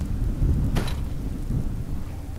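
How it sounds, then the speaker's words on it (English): Thunder rumbles in Fallout 4: a loud, close crack over a continuous low storm rumble with rain hiss, lasting a couple of seconds without speech. "That thunder is almost a bit much."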